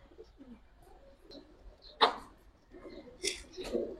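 A pair of Kaldam pigeons coos in short bursts at close range, with low throaty calls between louder sharp sounds and faint background noise.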